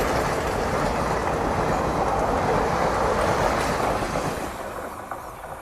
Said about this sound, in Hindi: कोई स्पेशल ट्रेन थी जो कि शायद से जबलपुर की तरफ से आ रही है।